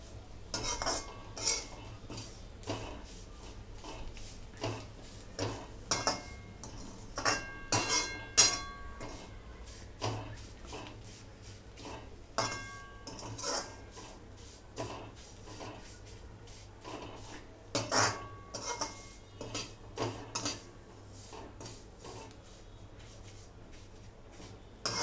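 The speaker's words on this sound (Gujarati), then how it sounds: "હળવા હાથે આપણે એને શેકી લેવાની છે, જેથી કરીને આમાં સરસ એની કલર દેખાઈ જાય." Vermicelli roasting in ghee in a pan for sweet savaiya, with frequent clinks and scrapes of a spoon stirring against the metal in irregular bursts over a soft background hiss.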